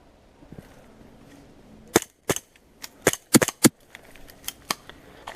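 Airsoft sniper rifle firing outdoors, a series of sharp snapping shots and clicks in irregular bursts, fairly close against quiet background.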